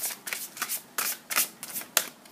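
Large oracle cards are shuffled by hand in quick bursts of crisp riffling and slapping, about six close, bright rustles in a loose rhythm, with no voices over them.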